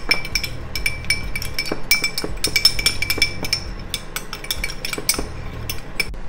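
A utensil stirs sauce ingredients together in a bowl, producing quick, irregular clinks and taps against the dish with soft scraping between them, close and fairly quiet.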